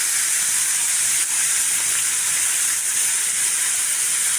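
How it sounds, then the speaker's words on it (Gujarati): Capsicum and tomato pieces sizzle steadily in a hot pan while pulao is cooked, a loud, continuous hiss that runs through the whole stretch without pause and with no talking. "હવે આપણે તેમાં કેપ્સિકમના પીસ નાખીશું અને ટમેટાના પીસ નાખીશું."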